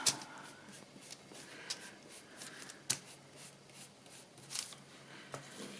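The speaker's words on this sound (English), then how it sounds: "Just going to ink my edges." Paper card edges are rubbed with an ink pad of vintage photo ink, making soft, scattered dabbing and scuffing strokes with a few sharper taps, quiet and close, with no talking.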